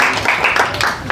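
An audience claps at a Human Rights Day event in The Hague, a dense burst of hand-clapping filling the space, with a voice briefly audible beneath it.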